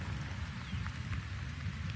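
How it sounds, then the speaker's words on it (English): Heavy rain drumming steadily on a tent at an off-grid gravel bar camp in Gola, Republic of the Congo, a constant close patter with a low rumbling undertone. "It's been raining for over 2 hours."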